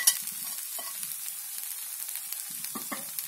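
Potato samosa stuffing cooking in a pan over a low flame, giving a soft, even sizzle with a few light stirring scrapes, close and quiet with no voices.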